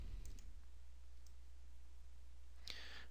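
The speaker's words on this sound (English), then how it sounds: "and then click OK." Quiet mouse clicks at a computer running CAD part-modeling software: a couple of faint clicks early, then a clearer click near the end over a low steady hum, with no talking.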